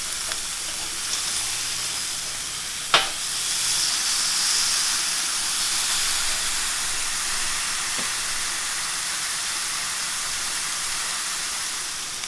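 Steaks sizzle on a Power Smokeless Grill with a steady, close hiss that fills the whole stretch, broken by one brief sharp click near the start.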